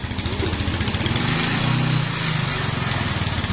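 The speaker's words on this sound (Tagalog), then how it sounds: "Ang lakas sa starter ah. Andar na." Rusi Macho 175 motorcycle engine runs steadily just after starting, a close, loud, fast-pulsing single-cylinder putter with a slight rise in revs midway.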